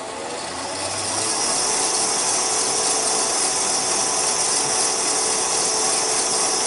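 A wood lathe spins a wooden top, its steady whirring drone rising as it speeds up, then holding at a loud, even, close mechanical hum with no talk.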